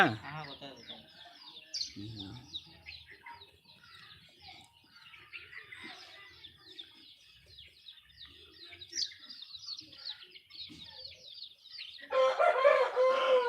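Fighting roosters and hens at a farm: dense chirping and clucking throughout, brief talk early on, and a loud rooster crow bursts out near the end.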